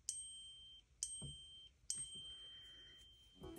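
Apple Watch alert tone, a decade-old design, rings out as three bright, clean chimes about a second apart, each with a short shimmering decay, alone against a quiet room.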